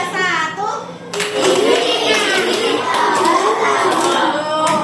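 Children in a classroom clap a patterned rhythm of two claps then one, the sharp claps ringing out over a loud group of young voices chanting and chattering throughout.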